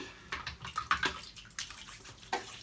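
Water splashing and dripping from a tap as a man wets his face before a wet shave, with a few separate close splashes spread across a quiet stretch.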